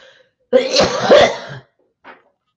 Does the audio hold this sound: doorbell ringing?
no